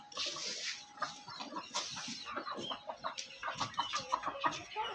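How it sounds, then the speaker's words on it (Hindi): An Aseel rooster clucks in a busy yard, with short repeated calls and chatter from other fowl close by, fairly loud and continuous, with no talking. "ये असील मुर्गा है।"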